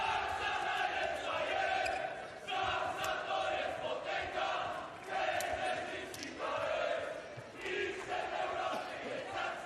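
A packed crowd cheers and chants at a CEV Champions League volleyball match between Grupa Azoty Kędzierzyn-Koźle and Aluron CMC Warta Zawiercie as play is about to begin, with rhythmic surging roars and a commentator speaking over it.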